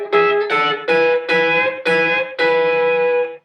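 Country-style guitar lick from a song played on guitar: six sustained, ringing phrases with bent notes sliding between pitches, clear and close, with no talking.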